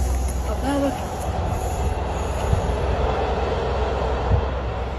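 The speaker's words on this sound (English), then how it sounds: "Some dogs are scared of trains, but Dora absolutely loves them" A train rolls past with a continuous rumble of wheels on rails, a brief high squeal riding over the steady noise.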